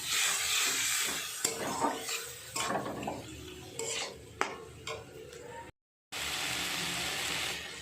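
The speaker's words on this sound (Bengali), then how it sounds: "এবারে অল্প পরিমাণে একটু জল দিয়ে মশলাটাকে ভালো করে কষিয়ে নিচ্ছি" Spice paste with a splash of water being stirred and fried in a pan for ghugni, with sizzling and clinks and scrapes of a spoon against the pan, broken by a brief dropout, no voices.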